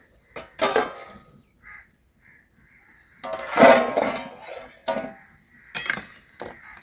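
A lid is lifted off a pot of eggs boiling for egg chilli, giving a few sharp metallic clinks and clatters with quiet gaps between them and no talking.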